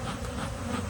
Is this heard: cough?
no